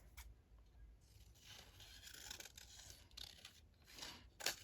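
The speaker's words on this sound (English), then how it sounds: "I'll just trim them down a little bit." Scissors snipping and trimming paper ephemera at a craft table for a Christmas junk journal, a few quiet, close cuts and paper rustles building to a crisper snip at the end.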